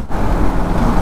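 Steady, loud road traffic noise near SRM on the way to Tirupati, a continuous broadband rumble of vehicles with no distinct events.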